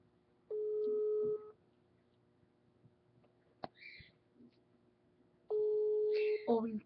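An outgoing phone call rings out with two long electronic ring tones several seconds apart, separated by quiet rustling and a brief soft voice, followed by a short burst of speech at the very end.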